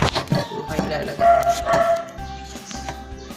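A dog barks and yips a few times in a home kitchen while eggs are being cooked, short sharp yelps mixed with shuffling household noise and a person talking nearby.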